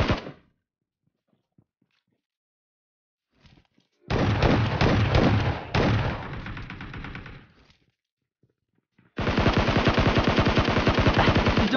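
Game for Peace (PUBG Mobile) gunfire: after a short burst and quiet, two long sustained automatic bursts rattle loudly and close, the second running to the end without talk.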